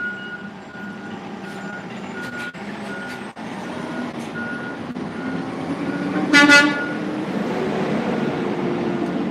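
A garbage truck backs up with repeated evenly spaced reversing beeps over a rumbling engine, and a short horn toot sounds near the end.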